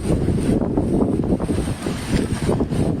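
Strong wind buffets and roars across the microphone in heavy, uneven gusts at Kavalesaad waterfall in Amboli, loud throughout.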